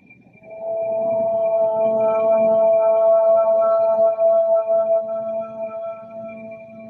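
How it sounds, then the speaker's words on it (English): A group chants a long, sustained Om together at the end of a yoga class. The voices blend into a rich, humming tone that swells after a breath and slowly fades. "we'll begin with a full breath in and then share the sound of Om."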